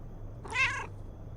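Black cat in the Romance Club game giving a single clear, drawn-out meow, rising then falling, over a quiet low hum with no talking.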